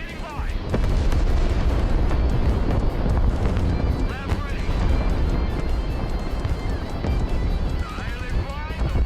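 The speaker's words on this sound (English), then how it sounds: "There go cruise missiles." Cruise missile strikes in the video game Broken Arrow, a dense continuous barrage of rumbling explosions and battle noise, loud and close, with someone talking over it throughout.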